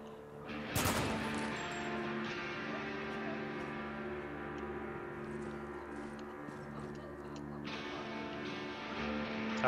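Heavy weapon fire in the shooter game Spec Ops: The Line, a sharp loud blast near the start followed by rumbling, sustained combat noise and further bursts toward the end.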